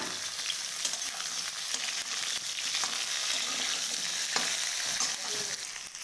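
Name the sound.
potato and vegetable stalks frying in a pan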